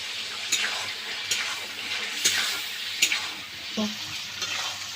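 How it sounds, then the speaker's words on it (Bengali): Fried potatoes stirred into mutton in a pot, a close, continuous sizzle punctuated by several sharp scraping stirs roughly every second, with a faint low hum beneath and no talk. "এখন ভেজে রাখা আলুগুলো এর মধ্যে দিয়ে দেবো দিয়ে ভালোভাবে কষাবো"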